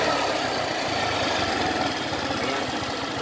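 A repaired engine that was misfiring from a sticking valve now idles smoothly: a steady, loud, close mechanical drone with an even low rumble and no stalling or stumbling, heard alone.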